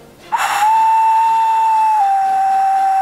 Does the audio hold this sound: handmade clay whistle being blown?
yes